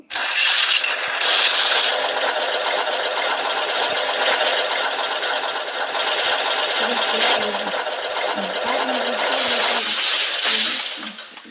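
Tractor engine from a Minecraft farm mod in a video game, a steady, buzzing mechanical drone held close and loud throughout, with faint lower sounds beneath near the end.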